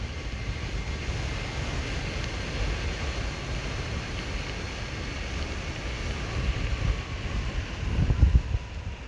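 Steady wind roar buffets the microphone while riding an Evolve electric skateboard against a headwind, a continuous low rushing with no talk, swelling louder near the end.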